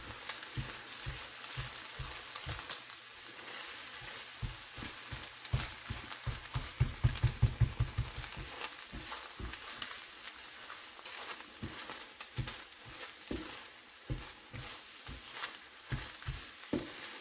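Eggs sizzle and fry in a Ninja Neverstick skillet with a little avocado oil, a steady crackling hiss with rhythmic scraping and tapping from a utensil throughout, and no voices.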